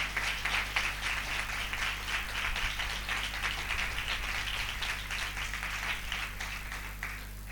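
A church congregation clapping together in worship, a steady rhythmic patter of many hands held at a moderate distance over a constant low hum, without pause for the length of the clip.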